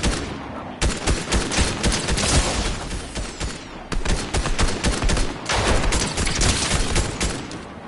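Rapid, loud gunfire from Fortnite gameplay, dense bursts of automatic shots and volleys rattling almost continuously with brief lulls, close and sustained with no talking.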